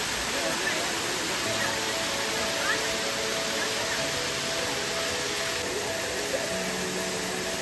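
Manneera waterfall, its water pouring in a constant, dense roar that fills the whole scene without pause, with faint voices in the background.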